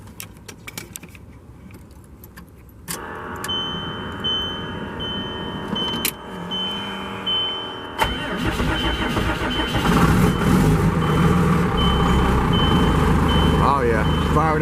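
A Ford F700 truck with a straight-piped Cummins diesel cranks and fires up, settling into a loud, rough, rumbling idle after some clanks and a short starter whir, with brief metallic rattles.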